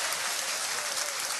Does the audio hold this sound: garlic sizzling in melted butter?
no